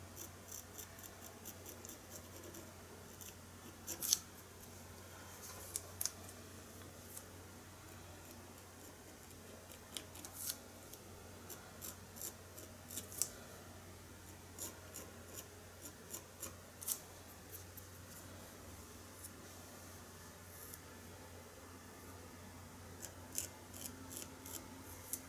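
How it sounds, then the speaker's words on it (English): A scalpel blade scratches colored pencil off paper in faint, irregular little scrapes and ticks, spread sparsely over a quiet background. "as you can see, I can scratch off some of the pencil and create some hairs that way."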